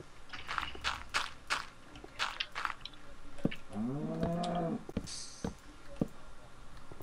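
Minecraft cows in an underground pen give a drawn-out moo midway, set among clicks, footsteps and chewing-like sounds, with a player talking faintly at times.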